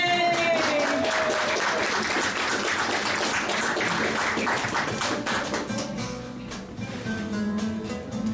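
A church congregation at a live service with local artists claps in a loud, dense round of applause that holds steady and then tapers slightly toward the end.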